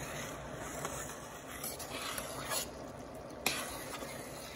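Sugar syrup with lemon juice boils in a pot for Lebanese desserts while a spoon stirs it, giving a soft bubbling sizzle with faint scraping strokes and one sharp clink, fairly quiet and close.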